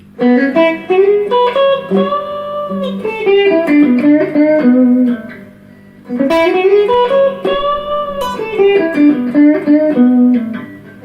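An electric guitar plays a melodic blues lick, loud and clear with bent, sustained notes in two phrases separated by a short pause, alone without talk.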